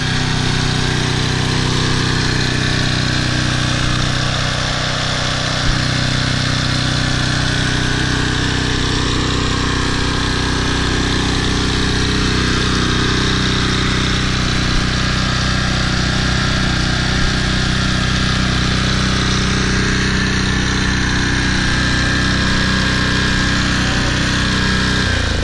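A Toro Personal Pace Model 20333 lawn mower engine with a newly fitted aftermarket carburetor runs steadily at close range, giving a loud, continuous mid-pitched drone with a metallic rattle running through it and no pauses.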